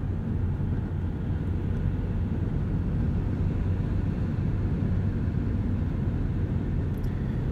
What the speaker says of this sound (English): A little bit of wind noise on the highway